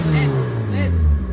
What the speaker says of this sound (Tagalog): Ganda ng makina. Expert pa naman ng carb.